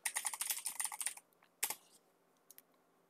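Quick clicking keystrokes on a computer keyboard, a fast run of close, crisp taps followed by a pause and a few isolated key presses, quiet with no talking.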